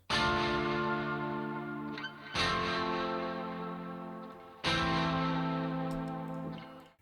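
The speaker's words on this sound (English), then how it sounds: "Then there are some strummed chords." Three sustained electric guitar chords strummed in a dreamy indie rock arrangement, each ringing out long with delay and reverb tails, heard clearly with no talking.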